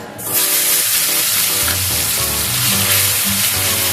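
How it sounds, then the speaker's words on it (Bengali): Grated onion drops into hot mustard oil in a kadai and frying takes over, a loud, steady, hissing sizzle that swells sharply at the start and holds with faint stirring beneath. "পেঁয়াজটা একটু লাল লাল করে ভেজে নেব।"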